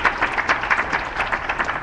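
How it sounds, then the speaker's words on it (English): A crowd applauds at Vishnu Mandir, a temple in Toronto, with steady, moderately loud, even clapping that continues throughout. "We should give a big round of applause."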